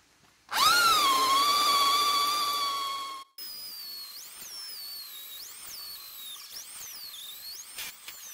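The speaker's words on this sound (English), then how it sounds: "We start drilling the hole." A power drill bores a hole into a wooden pole for a round house, a steady high whine for a few seconds that cuts off, followed by quieter varying whirs and squeals from the bit.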